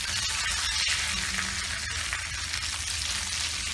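Rava-coated bangda fish fries in hot oil over a medium flame, a dense, loud and steady sizzle with faint crackles, no voices.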